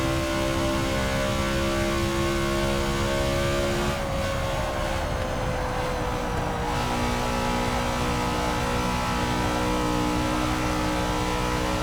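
A NASCAR race car engine in Forza 6 drones steadily and loud throughout, its pitch dipping and shifting midway as the car lifts and reaccelerates, with no voices over it.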